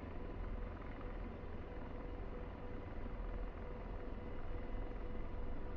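An AH-64D Apache helicopter in a flight simulator lifts into a low hover, its steady rotor and turbine roar holding at an even loudness throughout.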